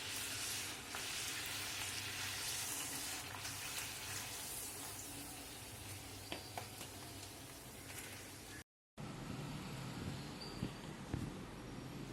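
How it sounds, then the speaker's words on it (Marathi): Salty-spicy puris deep-fry in hot oil, a dense steady sizzle close by with faint scattered crackles and light utensil taps, broken once by a brief cut before the frying hiss resumes. "आता अशाच सगळ्या पुऱ्या तळून घेऊया"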